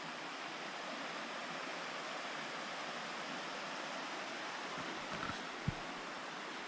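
Horseshoe Run, a small stream in the Monongahela National Forest, flows with a steady soft hiss of rushing water, constant and moderately distant, with a faint knock near the end.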